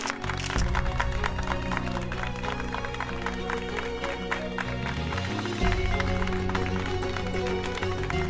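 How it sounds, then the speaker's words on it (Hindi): A crowd claps and cheers steadily and loudly at a police event after a speaker is introduced, with the applause running throughout and brief voices mixed in. "तालियां"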